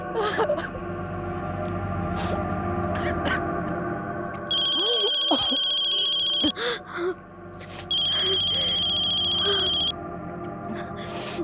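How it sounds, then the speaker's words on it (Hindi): A mobile phone ringtone rings in two bursts of bright, repeating electronic tones, with a short gap of other sounds between them, heard nearby in a domestic crime drama scene. "कब से फोन ट्राई कर रहा हूँ, फोन नहीं उठा रही है।"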